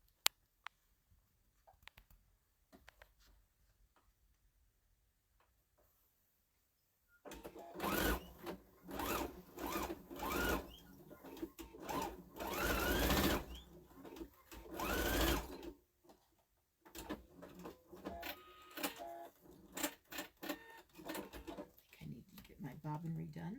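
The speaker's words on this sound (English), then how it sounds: "all I'm going to do is sew the 1/4 inch here" A sewing machine runs a quarter-inch seam on Santa placemats. After a quiet start with faint handling noises, it stitches in several loud bursts of rapid mechanical chatter separated by short pauses, with some talk in the background.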